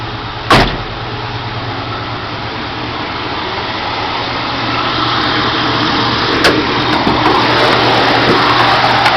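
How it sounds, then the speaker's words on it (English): A 1968 AMC Rebel SST engine idles steadily nearby, a continuous low rumble with a brief knock near the start and another faint thump later. "The engine runs good, sounds good."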